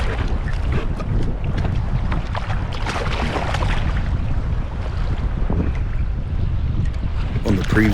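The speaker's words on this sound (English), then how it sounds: "Bloody wind." Strong wind buffets a fishing boat out on the water, a loud continuous roar and rumble close to the microphone with no clear talking.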